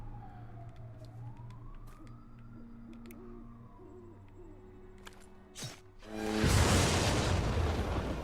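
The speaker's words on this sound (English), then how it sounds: "I got ambulance driving by and stuff." Ambulance siren driving by in the background, a faint wailing tone sweeping slowly up and down beneath steady low hum, followed by a sudden loud burst of broadband noise.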